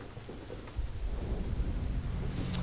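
Thunder rumbling with steady rain from a nighttime scene in the zombie video game Deadlight, a low continuous roll that swells slightly partway through over a dense wash of rainfall, heard alone without speech.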